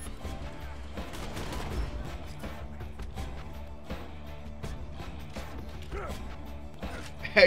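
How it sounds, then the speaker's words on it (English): Dense rapid gunfire from the video game Borderlands 2 crackles steadily throughout, with a sharper burst near the end, over a low game soundscape. "Who is shooting?"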